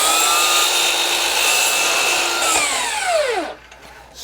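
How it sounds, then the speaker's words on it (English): A miter saw cuts through a faux wood beam, a loud, high whining motor with a steady cut that winds down in pitch as the blade slows and stops near the end. "the saw will pass through this product very simply"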